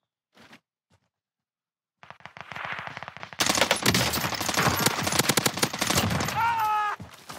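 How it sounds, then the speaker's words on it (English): Rapid automatic gunfire from a Warzone battle on the Caldera map, starting with a few isolated shots and then building into loud, continuous bursts that dominate the scene. "I'm shooting a guy over here somewhere"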